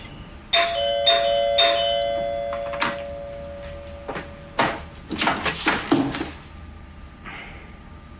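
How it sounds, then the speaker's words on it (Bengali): A doorbell chimes a few times indoors, with tonal ding notes followed by door clatter and shuffling nearby. "কলিং বেল বাজছে"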